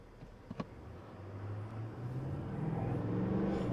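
A 2024 GMC truck with a 6.6-liter Duramax diesel engine accelerates at full throttle, its low engine drone building steadily in pitch and loudness from a few early thumps, heard from inside the cab.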